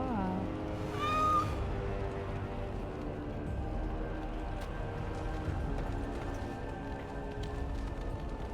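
A cat's meow in the video game Dragon Age: Origins, one short rising cry near the start, set over steady game music and ambient background that carries on throughout.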